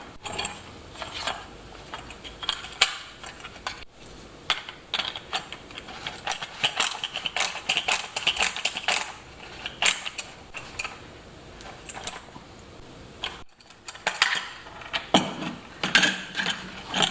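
Torx T30 driver fastening bolts for hand guards on a Triumph Tiger Sport 660 motorcycle, giving a steady run of close ratcheting clicks and metallic mechanical ticks with brief pauses.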